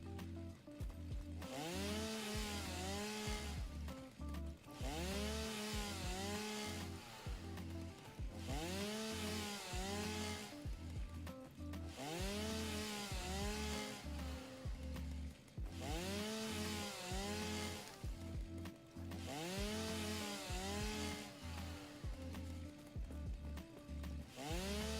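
A chainsaw cuts trees in a modded video game, its engine revving and bogging in a steady repeating cycle of roughly two-second bursts, loud and close throughout.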